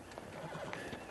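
Horses in a Western drama setting, a short, faint whinny with a brief neigh over light hoof clip-clop and a busy background, about one second long, no talking.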